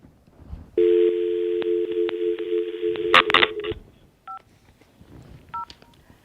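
Touch-tone dialing on a telephone line: a steady tone followed by a fast run of keypad beeps, then two short isolated tones, clear and close with no talking over it.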